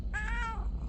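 A single short, raspy cat meow, close and clear, lasting about half a second over a low background hum.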